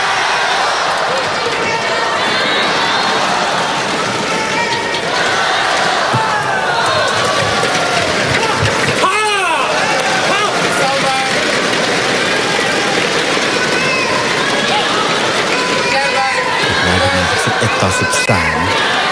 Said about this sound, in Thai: ฟังเสียงเชียร์ภายในสนามนะครับ